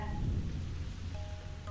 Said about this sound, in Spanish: La lluvia parece no parar pronto